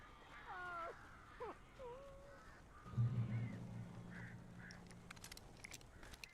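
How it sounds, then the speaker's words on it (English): Strange bird calls in the Alan Wake video game, a mix of warbling, swooping cries with a low croaking honk midway, set against a dim, eerie ambience with scattered faint ticks. "These birds are weird."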